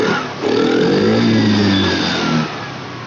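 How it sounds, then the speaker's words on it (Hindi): A BS6 TVS Jupiter scooter engine running close by after an RPM adjustment rises into a steady raised rev, holds, then drops back to a smooth idle, with no talking. "तो अभी देखिए इसका रेस जो आरपीएम है वो कंट्रोल हो चुका है।"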